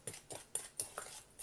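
A utensil stirring seasoning powder with ground chili into food in a bowl, making six faint, evenly spaced clinks and scrapes against the bowl with no voices.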